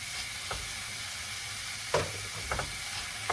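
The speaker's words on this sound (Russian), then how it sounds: "Выкладываем в сковороду всю капусту." A broad, steady sizzle of cabbage frying in a pan, punctuated by a few scraping stirs of a utensil; no one speaks.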